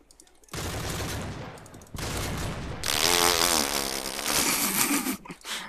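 Sustained machine gun spray fire in the Call of Duty Modern Warfare 3 multiplayer video game: dense, loud bursts of rapid gunshots running almost continuously, with brief gaps between volleys.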